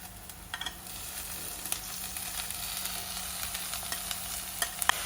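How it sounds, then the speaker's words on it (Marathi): Spring onion greens cook in oil for a Khandeshi green brinjal bharit, giving a soft, steady sizzle with occasional small pops and clicks close by. "कांद्याची पात थोडीशी अशीच आपण तेलावर शिजवणार आहोत"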